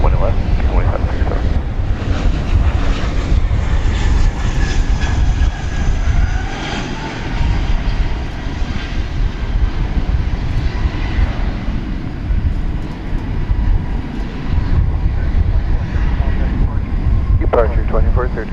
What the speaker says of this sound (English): We've got American Airlines Flight 3286 from Las Vegas and Airbus A321 about to enter our view